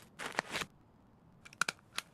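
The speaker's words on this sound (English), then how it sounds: "I heard a zipper" Short rasping zipper pulls in the video game Escape from Tarkov: one burst of scratchy zipping early, then several quick sharp zips later, close and crisp with no talk.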